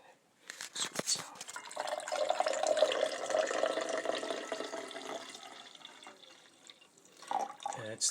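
Coffee streams steadily into a cup for several seconds, a soft gurgling pour with a faint rising tone, with a brief voice near the start and end.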